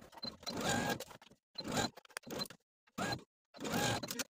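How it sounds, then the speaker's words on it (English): A home sewing machine stitches a neckband to a garment neckline in four short bursts of whirring, each roughly half a second to a second long, separated by brief silent pauses, close and clear with no talking. "Now we're going to sew the neckband to the neckline with a 3/8 inch seam allowance from side to side."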